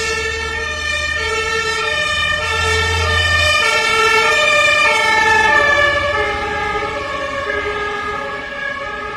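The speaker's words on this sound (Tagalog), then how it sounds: "iba rin ang tunog ng ambulance" An ambulance siren wails on a rainy Berlin street, its rising and falling two-tone pattern loud and close over traffic rumble.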